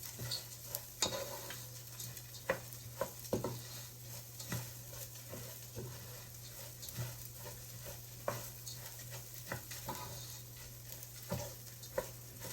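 Rice toasting in a pan for Spanish rice, a steady faint sizzle with scattered stirring scrapes and light clicks throughout, no voices.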